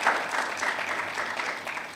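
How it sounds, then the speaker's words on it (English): Audience applause at an Architecture Day gathering of the Ghana Institute of Architects, a steady dense patter of many hands lasting the full two seconds at moderate loudness, with no voices over it. "I think you have to applaud for this one."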